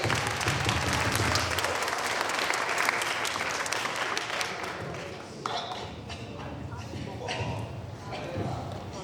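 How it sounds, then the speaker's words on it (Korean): Audience at a team project presentation claps loudly, a dense roar of applause that thins out partway through into scattered individual claps and thumps, with voices mixed in. "박수 한 번만 더 주세요"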